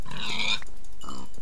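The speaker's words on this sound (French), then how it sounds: "bah y a plein de cochons, je vais pas tous les tuer" Pigs in Minecraft give two short nasal grunts, close and clear with a brief gap between them and no talking.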